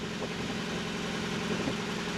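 A sailboat's engine idles at low throttle, its propeller fouled with growth, a continuous mid-pitched drone with a faint vibrating hum and no voices.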